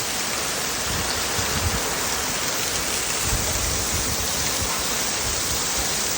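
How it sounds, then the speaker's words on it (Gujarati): Heavy rain pours down steadily, a dense, loud, unbroken roar of water with no voices or pauses. "ઓહો હો, આટલો બધો વરસાદ પહેલી વાર."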